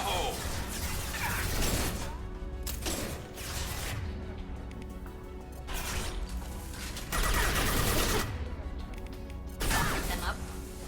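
In the video game Mass Effect 2, a thrown grenade goes off in a loud, crashing explosion amid clattering gunfire and debris. Several heavy blasts and bursts of combat noise follow one another.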